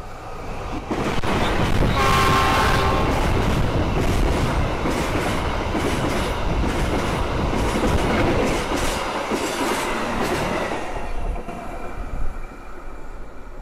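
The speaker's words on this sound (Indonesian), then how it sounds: "kereta api Serayu tiba di stasiun Tasikmalaya" The Serayu passenger train rumbles loudly into Tasikmalaya station in Indonesia with a dense, continuous clatter and a brief horn-like tone early on, the noise easing toward the end.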